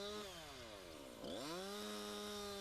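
A Jonsered chainsaw engine runs loudly and steadily close by, its pitch dipping briefly then revving back up to a sustained high whine.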